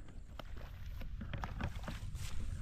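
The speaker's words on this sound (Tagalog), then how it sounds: "Andarin muna natin yung makina." Irrigation water pump engine running in a rice field, a low, steady rumbling drone heard from some distance, faint and continuous throughout with no talking.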